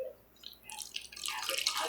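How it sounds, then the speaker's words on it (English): Green aloe liquid is poured into a container, a faint trickling and dripping that grows into a steadier, brighter splash near the end. "We're just going to pour it in here."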